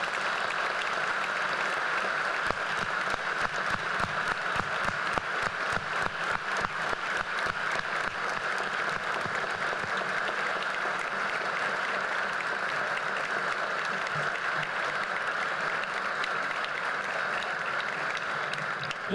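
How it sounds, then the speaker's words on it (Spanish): Sustained applause from a large audience at a university tribute to Alonso Lujambio at ITAM, a dense, steady roar of many hands clapping together that runs evenly for its whole length with no voices on top. "Les pido para él, para Alonso, un aplauso"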